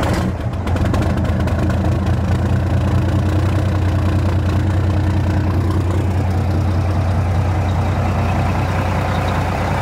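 Big diesel motor of a DIY RV conversion with an 8-inch side-dump exhaust idling loudly and close by, a deep, steady rumble with a low throb that holds unbroken throughout.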